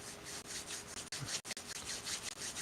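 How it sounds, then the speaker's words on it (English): Palms of the hands rubbed together during a morning meditation sitting, a soft, steady dry swishing friction close by, with quick back-and-forth strokes and no talking. "Rub the palms."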